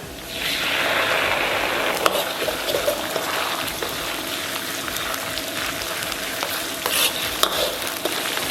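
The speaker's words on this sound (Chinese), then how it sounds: "简单煸香以后，咱们把郫县豆瓣酱和辣椒酱给它下里边。" Pixian chili bean paste and chili sauce stir-fry in hot oil with ginger, garlic and scallion in a wok for a Sichuan mao xue wang dish, a close, steady sizzle with scraping stirs and occasional sharp crackles, no voices.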